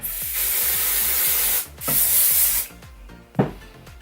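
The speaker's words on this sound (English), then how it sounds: "Give it a spray." Two bursts of hairspray hiss loudly onto hair, one long and one shorter, followed by a soft brushing sound.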